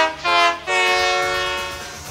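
A cartoon construction train from Mighty Express sounds its horn in two loud blasts, a short one followed by a longer, sustained tone that slowly fades, with no voices over it.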